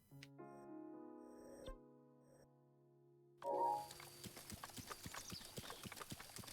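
Horse hooves clip-clop at a steady trot in Zelda: Breath of the Wild, a regular run of sharp hoof strikes that begins partway through after held musical tones and goes on to the end.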